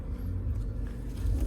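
A Mercedes C180 W203 engine idles steadily, a low, even rumble heard close by with no talking, the car left running while work goes on underneath.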